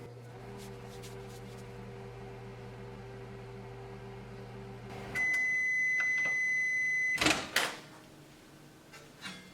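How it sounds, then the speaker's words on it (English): A microwave oven hums steadily, then the hum stops and a high beep sounds, followed by the door clicking open. "put it in the microwave and we're going to give 20 seconds"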